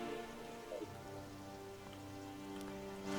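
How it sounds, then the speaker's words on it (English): Steady rain falls in the video game Terraria, a dense even patter that runs through the whole stretch at a constant level with no pauses. "Ah yes, the rain."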